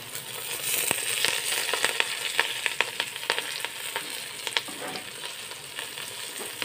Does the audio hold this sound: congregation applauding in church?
no